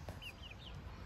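Australorp chickens cluck softly in a few short, high chirpy calls over a steady background hum, faint and somewhat distant.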